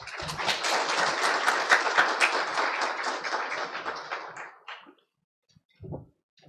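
Applause from the audience at a Busan citizens' forum welcoming a committee chair, lively clapping for about four and a half seconds that fades out, then a brief thump or two after a short silence.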